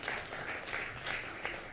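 Brief studio audience applause on a television morning show, quiet scattered clapping heard at a distance for a moment.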